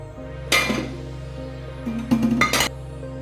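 Light clinks and clatters as plantain and carrots are dropped into a bowl, a few short knocks of food and utensil against the dish, close and dry.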